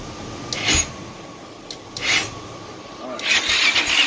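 Yamaha Raptor 660R ATV with a new motor cranking in short bursts, popping with a backfire and then catching, three separate rough surges with quieter gaps between them.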